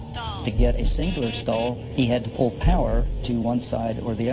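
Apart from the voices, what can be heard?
None of the usual background noises is heard.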